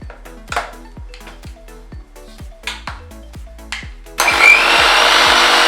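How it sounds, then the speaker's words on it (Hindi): A mixer grinder blends spinach, ginger, green chili and water in its jar, heard first as a series of sharp knocks and clatters, then a loud, continuous whirring roar that starts abruptly and runs to the end. "थोड़ा सा पानी डालकर इसको पीस लेंगे।"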